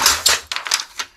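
A Brother DCP-7030 laser printer feeds a single sheet of paper during a test after a drum replacement, giving a quick series of sharp close mechanical clacks and rattles lasting about a second.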